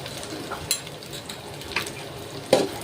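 Potatoes sizzling in hot oil with cumin and turmeric, a steady fry broken by a few sharp clinks of a spoon stirring against the pan.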